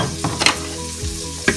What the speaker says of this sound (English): Stir it around a little bit with the onions and garlic